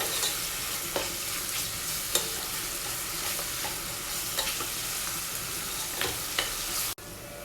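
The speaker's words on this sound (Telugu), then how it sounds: "గార్లిక్ జింజర్ పేస్ట్ వేసిన తర్వాత ఇదంతా కూడా బాగా కలిసేటట్టు మిక్స్ చేసుకోవాలండి" Garlic ginger paste being stirred in a frying pan for a mixed vegetable soup, a steady close sizzle broken by soft periodic scrapes of the spoon against the pan, no voices.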